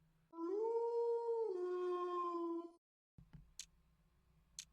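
A beast howls in the Tsukihime video game, one long, sharp, high-pitched tonal cry that dips in pitch midway, then cuts off, followed by faint ticking.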